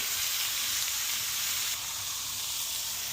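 Steak sears in an Our Place Titanium Always Pan Pro, giving a loud, steady, close hiss of frying fat that holds constant throughout with no talking.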